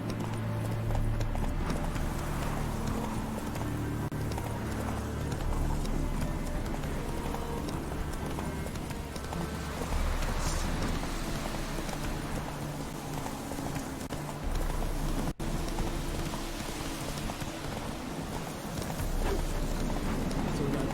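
Roach the horse galloping in The Witcher 3, with steady rhythmic hoofbeats clip-clopping throughout, set against a continuous in-game ambient bed with no talk.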